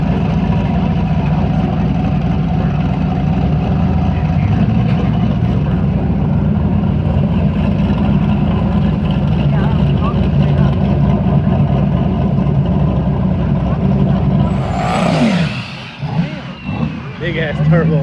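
A turbocharged Subaru race car on slicks runs at the track with a loud, steady engine drone that holds for a long stretch, then breaks into rougher bursts near the end, with people talking over it.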